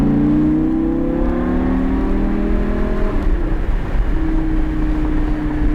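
Car engine on a driving track accelerating steadily, rising harmonic engine tone building over several seconds with a slight dip before holding a higher pitch, close and loud, no talking.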